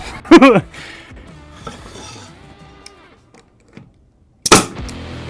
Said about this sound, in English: And we're gonna pop a staple in his ass.